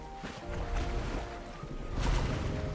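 Klombo, a large creature in Fortnite Chapter 3, swimming and splashing in water, a soft sloshing wash with a louder surge near the end, quiet and without speech.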